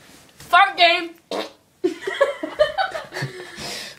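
A loud fart sounds near the start, followed by bursts of laughter, chuckling and voices up close.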